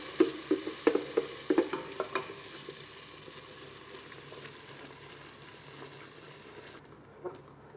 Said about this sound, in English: So once the lard is melted, we're going to add the mole sauce.